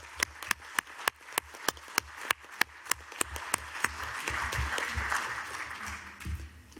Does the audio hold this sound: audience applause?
yes